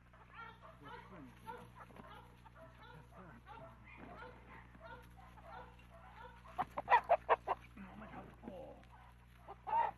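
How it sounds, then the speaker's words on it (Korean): Chickens in a coop at a traditional mountain village, chased by their owner before a holiday, break into a quick run of loud clucks and squawks. Someone narrates steadily beneath and before them. "명절이 되면 닭장 속 닭은 있는 힘껏 주인과 다름질을 벌인다."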